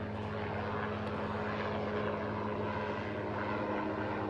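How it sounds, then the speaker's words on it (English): A helicopter drones overhead in a steady, continuous rumble, faint and distant throughout with no talk. "There's a helicopter."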